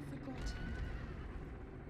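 A horse neighs in The Legend of Zelda: Breath of the Wild, a brief, faint whinny with some hoof clip-clop, heard under a person talking.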